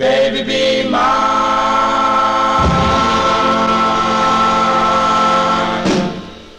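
A 1956 rhythm and blues vocal group record plays loudly, with layered harmony voices and backing instruments held in sustained chords that shift a few times before the song ends and fades.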